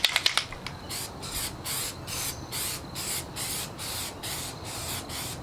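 A few quick clicks, then steady rhythmic bursts of spray paint hissing from a can onto a Jeep JK bumper, short pulses repeated evenly at close range in light back-and-forth coats.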